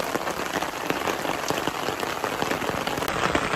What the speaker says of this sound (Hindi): फिर बारिश शुरू हो गई है तेज़ वाली,